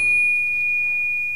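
A steel pickle fork, a ball-joint separator tool, is struck and rings like a bell: one clear, sustained metallic tone that holds steady and fades only slightly over a second or so.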